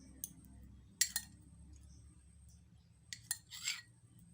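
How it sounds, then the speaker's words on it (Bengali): A kadai (wok) being set down on the stove for frying paneer, heard as a few faint, sharp metallic clinks and taps spread across a quiet kitchen background. "পনিরটাকে ভাজবো, এর জন্য কড়াই দিচ্ছি"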